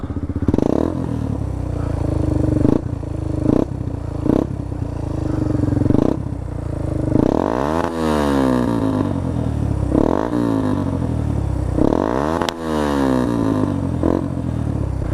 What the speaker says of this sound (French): je vais juste vous laisser sur le bruit du pot d'échappement